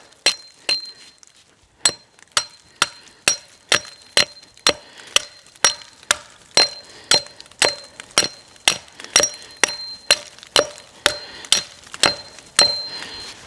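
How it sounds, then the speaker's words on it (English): A hatchet strikes a tree, clearing loose bark in a steady rhythm, about two dozen sharp, crisp chops with a faint metallic ring, close and clear. "I'll kind of clear off that loose bark."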